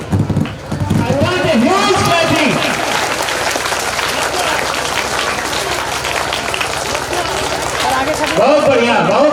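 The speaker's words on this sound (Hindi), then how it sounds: "बहुत बढ़िया, बहुत अच्छी तालियां आपकी" A crowd at an Independence Day school prize ceremony applauds with loud, dense clapping that runs steadily throughout, with voices mixed in.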